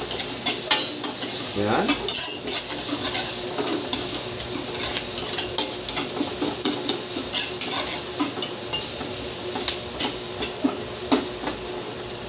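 Garlic and onion fry in hot oil in a pan for a pork ribs afritada, a steady sizzle broken by repeated scraping and clinking of a spoon stirring, close up, with one brief word spoken.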